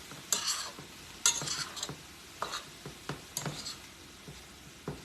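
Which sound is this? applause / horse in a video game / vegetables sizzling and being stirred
vegetables sizzling and being stirred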